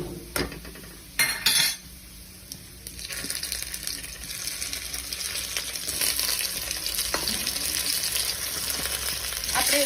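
Cabbage muthiya dumplings hit a pan of hot oil and garlic with a couple of loud clattering knocks, then settle into a steady, close frying sizzle with spoon scraping and stirring throughout.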